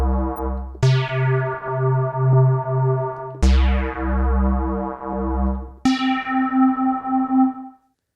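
A bell-like synthesizer patch with a noise-based sound, struck four times in succession, each note sharp in attack and then ringing and decaying with a short release, loud and alone.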